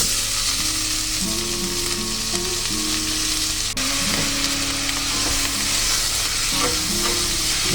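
Onions and leaf spices fry loudly for a Goa prawn curry as chopsticks stir them, a dense close sizzle over a low steady hum, with a faint melodic tone running beneath.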